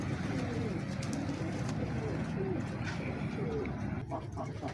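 Pigeons kept by a breeder coo softly and steadily against a dense, noisy background, and a faint voice comes through now and then.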